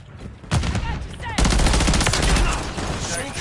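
A stun grenade goes off in a Call of Duty match: a loud burst erupts, then a second, bigger blast with a sustained roaring, ringing wash amid ongoing game noise.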